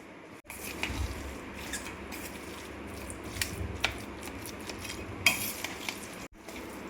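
Cooled mashed potato filling for aloo paratha is stirred and mixed in a bowl, giving soft, scraping, clinking kitchen sounds with a few sharper taps.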